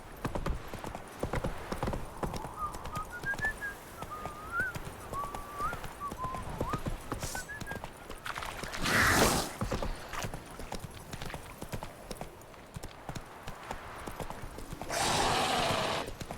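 A horse gallops in The Witcher 3 video game, its hooves clip-clopping in a steady quick rhythm. A brief neigh sounds partway through, and two bursts of louder noise stand out against the ongoing hoofbeats.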